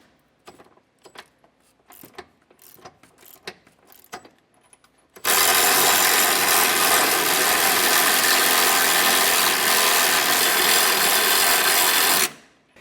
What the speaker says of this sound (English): I'm going to be using a 15/16 socket on both the bolt head and on the nut.